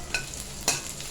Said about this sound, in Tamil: பச்சை மிளகா பொடியாக நறுக்கி அதையும் போட்டு வதக்குங்க